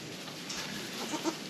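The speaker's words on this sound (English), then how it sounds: "Goat kids." Young goat kids bleating softly a few times, faint and close-ish over a quiet room tone, with a couple of short wavering calls near the end.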